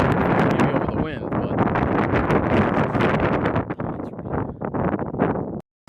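Wind blows hard outdoors among dwarf pines, buffeting the microphone in loud, continuous rushing gusts with rustling, then cutting out briefly near the end.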